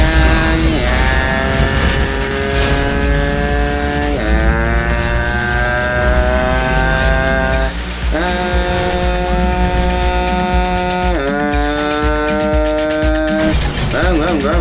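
Car engine in a GTA game, a loud droning motor rising in pitch through repeated gear shifts, with drops and climbs every few seconds, steady and close.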